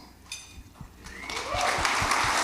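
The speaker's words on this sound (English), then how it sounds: "Yeah, you can clap" An audience at a college basketball awards banquet breaks into applause, starting with scattered claps and swelling into a dense, sustained ovation.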